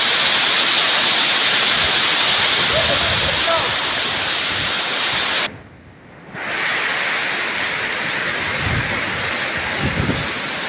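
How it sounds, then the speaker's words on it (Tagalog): Strong typhoon wind roars continuously with a dense, rain-like hiss on Lipata Island, Philippines. It briefly drops away for under a second near the middle, then surges back. "Binabayo ng hangin ang Isla Lipata."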